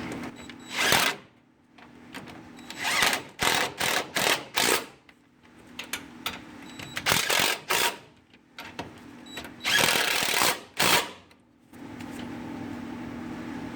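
Transmission bolts on a Ford Super Duty V10 with a 4R100 transmission are snugged up with a 15 mm socket, giving repeated short bursts of sharp ratcheting clicks separated by brief pauses, close and fairly loud.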